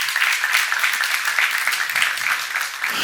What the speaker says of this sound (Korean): 믿는 사람만 박수 한번 주세요